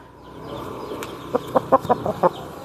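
A big Nalla Kattu Rasangi rooster gives a quick run of about six clucks, close and fairly loud over a low background murmur.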